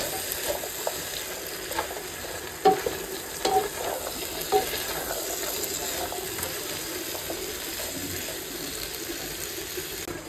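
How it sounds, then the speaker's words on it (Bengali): Winter vegetables fry in a pan with a soft, steady sizzle and occasional sharp scrapes and knocks of stirring, close by and with no voices. "সবজিটা একটু ভেজে নিচ্ছি"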